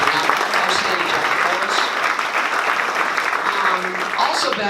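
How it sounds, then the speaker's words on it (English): An audience applauding a speaker's colleague at a gathering, with dense, steady clapping that fills the room throughout at fairly loud level. "I'm going to ask you to give a round of applause for Mike as well"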